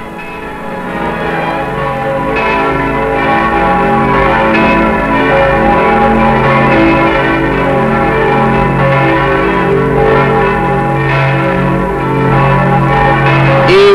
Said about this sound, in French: Et au son de toutes les cloches de Rome